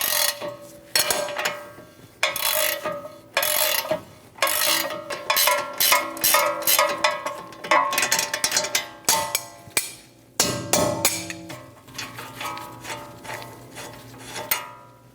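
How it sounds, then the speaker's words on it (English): Metal tools clank and ratchet on a Dodge Durango ball joint stud as a 24mm wrench loosens the nut while an 8mm Allen bit holds the stud; sharp, repeated close-up clicks and knocks come in an irregular rhythm. "I'm going to use an 8mm Allen bit to hold the stud while I use a 24mm wrench to"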